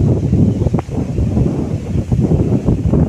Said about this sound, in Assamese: বতাহ বলি আছে, চাওক